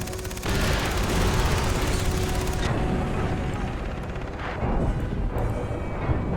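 Rockets roar in and explode in Far Cry 3, a loud sustained rumble of blasts and booming impacts that thins after a few seconds into ongoing crackling explosions, with no one speaking.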